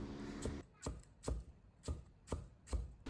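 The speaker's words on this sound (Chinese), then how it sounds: "再切成小丁" A knife chops bitter melon into small dice on a cutting board, striking in a steady series of about seven crisp, close knocks roughly half a second apart.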